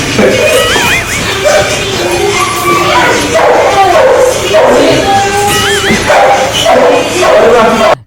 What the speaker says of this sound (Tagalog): Kahit yung aso nakikisali